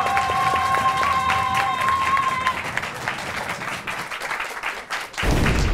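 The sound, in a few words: audience applause for the applause meter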